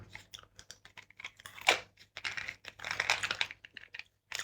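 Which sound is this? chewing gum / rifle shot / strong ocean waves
chewing gum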